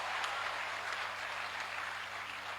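Steady applause from an audience at a Hindi poetry gathering, dense and even clapping filling the room at moderate loudness without a break.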